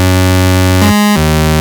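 Thick, sustained synth bass from the Vital synthesizer, a heavy Reese-style patch with both oscillators dropped two octaves, droning loud and steady with a brief filtered dip near the middle before resuming.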